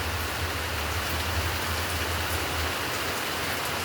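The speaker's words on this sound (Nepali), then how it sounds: "हेर्नुहोस् कसरी पानी पर्दैछ।" Steady, dense rainfall pours down on an afternoon in Birpara, West Bengal, India, a continuous even hiss of drops on surfaces, close and constant throughout with no voices.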